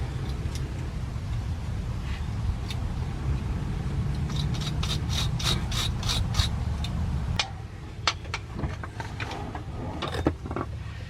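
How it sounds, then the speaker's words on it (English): Starter cable contacts on a GMC being cleaned by hand: a run of quick, rasping scrapes and rubs, with sharper metallic scratches toward the end over a low background hum. "Cleaning off my cables here."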